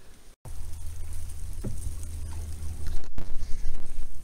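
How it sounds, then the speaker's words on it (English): A canoe pushes over reeds and watercress on a small river, a continuous close brushing and scraping rustle with a few bumps and splashy surges, loud and steady throughout. "If we can get over this piece of watercress, yeah, we'll ride over the reed, won't we? We'll ride over the reeds."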